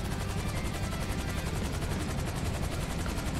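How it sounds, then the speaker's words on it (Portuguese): A helicopter in GTA V Online hovers to pick up a container, its rotor giving a loud, steady, fast pulsing thump over a rough engine roar with no talk. "O helicóptero já tá aqui recolhendo o contêiner."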